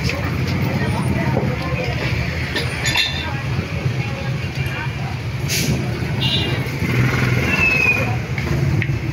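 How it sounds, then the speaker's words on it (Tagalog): A Yamaha 18 horsepower engine runs during a test, giving a steady low rumble with scattered metallic clinks throughout, while a voice talks over it. "dito na po ang makina natin, titestingan"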